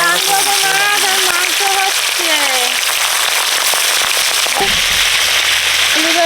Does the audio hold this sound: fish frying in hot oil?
yes